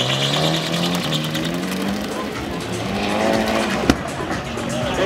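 Drift car at a 2011 CNDR Round 4 qualification run in Suceava, Romania, tires squealing steadily as the engine roars and the pitch slowly rises, loud and continuous, with a sharp knock near the end.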